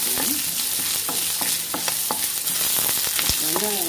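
Peeled garlic cloves and onion sautéing with roasted dal for a radish chutney, under a constant close sizzle broken by frequent clinks and scrapes of a spoon stirring the pan; no voices.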